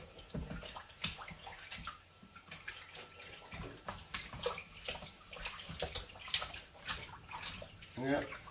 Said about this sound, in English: Knead it about under the water to get the fabric soaking up the compound